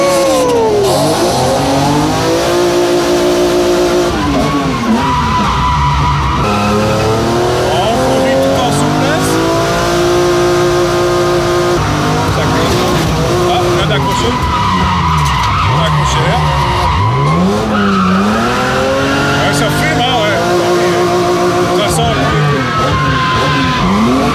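A 380-horsepower drift car at a drift event revs hard and skids with long tire squeals, engine pitch sweeping up and down, loud and continuous, with commentary talk underneath.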